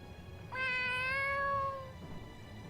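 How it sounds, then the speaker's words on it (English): A cat gives one clear, drawn-out meow lasting over a second, rising then sagging in pitch, standing out above a steady low background hum with no talk. "Is that your cat?"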